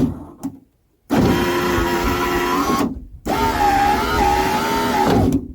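An electric power window motor in a 1991 Ford F-150 whirs steadily as the glass travels, stops briefly, then runs again for a second long pass, loud and close with no talking.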